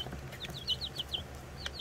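Cochin and Americana chickens cluck softly in a series of short, quick calls at moderate distance, with low background hum and no talking.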